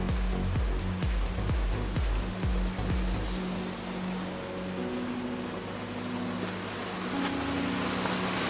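Meltwater from melting snow pours into a roadside drain beside a traffic sign in the snowy north, a steady broadband rush and gurgle of flowing water, fairly loud and continuous, with a few sharper splashes early on.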